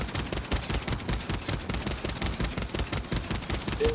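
A long-range assault rifle in a Rebirth Island shooter game fires rapidly and continuously. The shots form a fast, evenly spaced stream, loud and unbroken for the whole stretch, with no voices over it.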